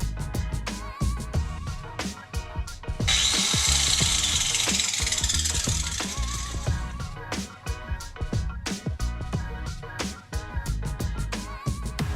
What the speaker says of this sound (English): I brought out the angle cutter